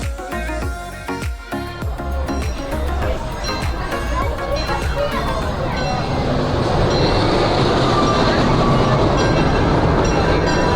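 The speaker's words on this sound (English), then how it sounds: "And here comes the train." Cedar Point and Lake Erie Railroad train pulling into a station at an amusement park, a loud, steady rumble with clattering wheels and rising roar as it nears, with people talking over it.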